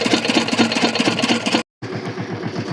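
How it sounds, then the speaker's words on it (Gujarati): An engine-driven water pump machine runs steadily up close, a chugging mid-low rumble with a regular pulse, cut by a brief dropout before the same engine drone resumes. "આપણે મશીન ચાલુ કરી દીધું, મશીન જઈને પાણી ખેંચીએ"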